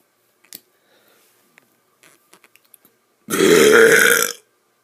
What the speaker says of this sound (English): The biggest burp is coming.